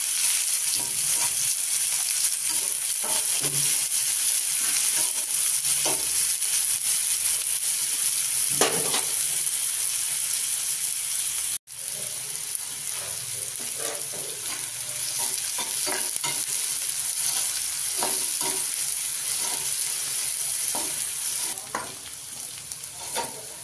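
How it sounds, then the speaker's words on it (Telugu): Onion and slit green chillies fry in oil while being stirred for an aloo palak dish, a steady loud hiss of sizzling throughout with occasional scrapes of the spoon, close up and with no voices. "అది వేసిన తర్వాత పచ్చిమిర్చి చీలికలు అది కూడా ఆయిల్లో వేసేసి బాగా కలుపుకోవాలి"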